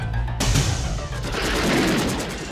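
Soldiers in the 1985 action film Commando open fire on a shed, a sudden loud burst of rapid, sustained gunfire that erupts after a brief lull of music and rattles on continuously with impacts and debris.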